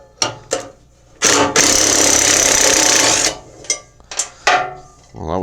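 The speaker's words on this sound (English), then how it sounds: "So we get the wrench on the nut." Wrench working a nut loose on an early-1990s Mastercraft riding mower: short, loud metallic bursts, then one sustained harsh rattling burst lasting almost two seconds, followed by a few more sharp clanks close by.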